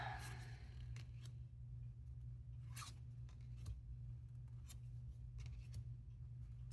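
Scissors cut along the border of a card in a few quiet, separate snips, faint and close, over a low steady hum.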